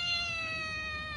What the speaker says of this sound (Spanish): Qué entrenado que está el gato